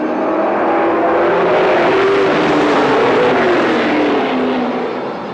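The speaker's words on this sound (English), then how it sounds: "Cars going 15 laps as they bring them up to speed coming out of turn 4." Race cars at speed on an oval track coming out of turn four, a loud, dense engine roar that builds and holds with wavering pitch as the pack passes close by, then eases slightly at the end.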